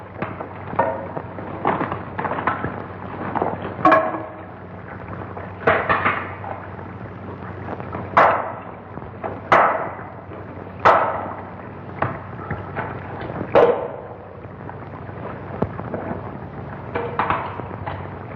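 Hammers strike a wall to break through it, landing as a string of sharp, irregular knocks and thuds at moderate distance over a low steady background hum.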